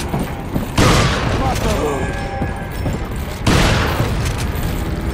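Shotgun blasts in the Resident Evil 4 video game, two heavy booming shots a few seconds apart over a dense layer of game noise and background sound.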